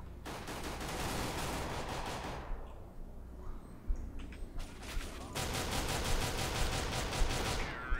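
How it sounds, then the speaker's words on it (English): Rapid bursts of automatic gunfire crackle through a CS:GO firefight, dense volleys that drop out briefly mid-clip before another loud, sustained barrage of shots resumes close by. "Shit, where the fuck are we getting shot at from?"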